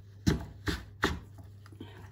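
Kitchen knife cutting butternut squash into wedges on a board: three distinct close chopping thuds about half a second apart, followed by fainter, softer cuts in a quiet room.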